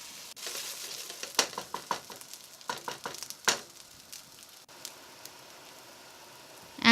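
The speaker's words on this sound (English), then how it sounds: "Fry the rice on high heat" Basmati rice fries in a pot over high heat with a crackling sizzle, broken by bursts of stirring scrapes and clatter that fade to a steady hiss before a final loud clink.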